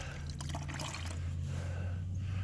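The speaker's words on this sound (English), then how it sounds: "Dribble some water on it just to get it wet." Soapy water trickles from a sponge onto a motorcycle during washing, a soft, close dribbling and spattering over a steady low hum, brief and fairly quiet.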